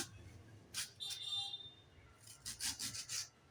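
A knife slices an onion into rings for a spiced lachha onion dish, giving several soft, crisp cutting strokes in short bursts, fairly quiet and close, with no talking.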